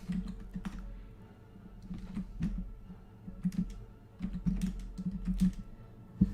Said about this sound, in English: Let's type in this.